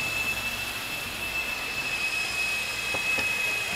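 A 400-class four-channel RC Agusta double-rotor helicopter from New Art Tech hovers hands-off with a steady high-pitched motor whine and rotor hum, continuous and fairly close.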